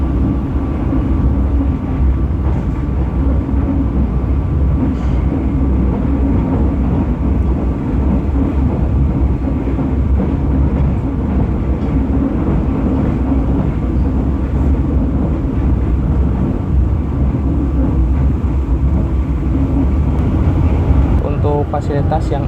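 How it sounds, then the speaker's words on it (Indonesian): Steady, loud rumble inside a Ranggajati economy New Generation passenger train travelling from Purwokerto to Kutoarjo, a continuous low roar of wheels and carriage running throughout. "menikmati perjalanan dari stasiun Purwokerto ini menuju ke stasiun Kutoarjo menggunakan kereta api Ranggajati dengan kelas ekonomi New"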